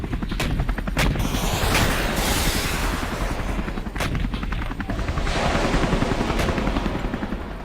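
Ukrainian Mi-8 helicopters firing on Russian positions from very low altitude: a continuous roar of gunfire with rotor noise, and sharp repeated bursts and booms punching through the dense, loud wash.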